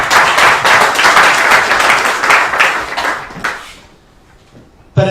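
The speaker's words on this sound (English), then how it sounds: "we should all give a round of applause" Audience applause at a press conference in The Hague for Rohingya leaders and activists, dense clapping for about four seconds that fades into quiet before a sudden sharp noise at the end.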